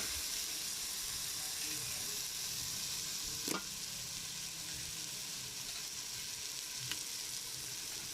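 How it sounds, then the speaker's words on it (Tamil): Mutton (goat meat) fries in a pan with onion masala, giving a steady, even sizzle throughout, broken by one brief scrape of a stirring spoon midway and a faint tap later. "அடுத்து கறியை போட்டுக்கலாம். ஆட்டுக்கறி"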